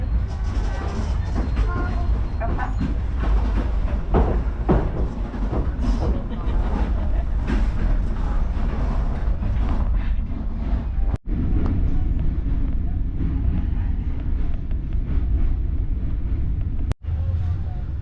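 A train runs along the tracks in Vietnam, a loud continuous low rumble and rattle of wheels and carriage with shifting clatter, heard from inside and close throughout.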